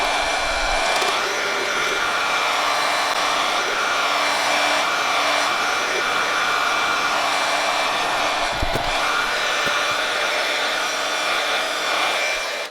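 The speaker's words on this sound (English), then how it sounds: "now we are going to get the heat gun" A heat gun blowing on sublimation shrink wrap around a tumbler, a loud continuous airy roar held steadily for over ten seconds with a brief bump near the end.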